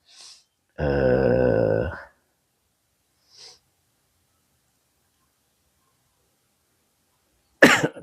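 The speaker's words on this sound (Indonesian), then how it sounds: "bentar batuk dulu." A single loud, close cough from a man during a religious talk, lasting about a second, followed by a faint breath and a sharp noise near the end amid otherwise silent room.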